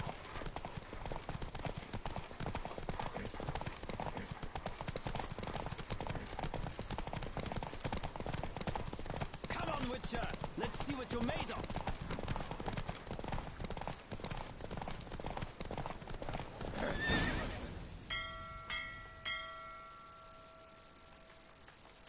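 Galloping horse hooves in The Witcher 3 video game drum in a rapid, continuous rhythm for most of the stretch, then fade out into quiet game chimes and tones near the end, with a voice calling out over the riding.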